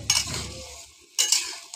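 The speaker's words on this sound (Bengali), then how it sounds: "এখন মাছগুলো দিয়ে দেবো" Small fish dropped into a simmering fish curry on a clay stove, giving two short bursts of close sizzling and bubbling with a quiet gap between them.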